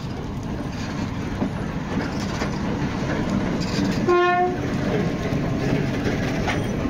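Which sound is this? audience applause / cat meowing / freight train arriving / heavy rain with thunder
freight train arriving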